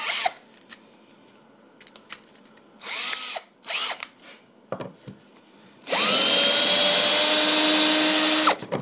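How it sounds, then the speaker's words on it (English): A power drill driving a Grabit Pro screw extractor into a screw whirs in several short bursts, then runs steadily and loudly for about three seconds, its pitch shifting slightly as it drives. "you can hear the drill start to get a lot easier"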